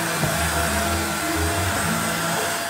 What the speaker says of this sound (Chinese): 原来是吸尘器呀！